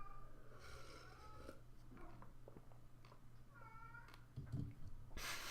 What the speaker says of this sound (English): You hear my cat crying in the background, hoping for some more attention.